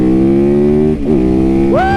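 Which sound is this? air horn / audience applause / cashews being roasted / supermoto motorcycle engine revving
supermoto motorcycle engine revving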